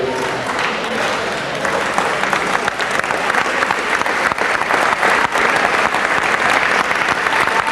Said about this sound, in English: David Johnson to the crowd here, and he's getting a good hand from the crowd